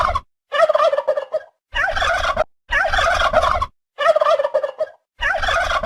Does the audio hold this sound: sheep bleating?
no